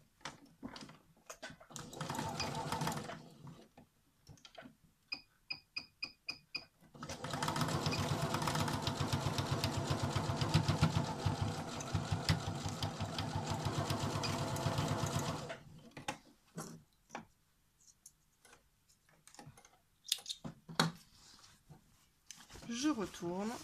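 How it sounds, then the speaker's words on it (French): Sewing machine stitching a rectangular fabric pouch, first in short stop-start bursts and then in a long steady whirring run of about eight seconds, with someone talking between the runs. "Et je n'ai plus qu'à coudre là où j'ai cousu à l'instant."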